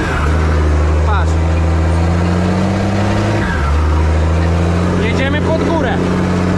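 A Zetor tractor pulling a 5 m harrow climbs uphill at full throttle, its engine note rising and straining under load while someone talks over it.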